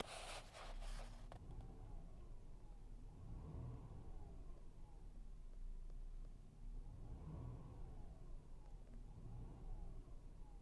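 A 2006 Subaru Legacy GT engine runs steadily from inside the car, a low continuous rumble that swells twice as the revs rise and fall, with a brief scratchy noise at the start.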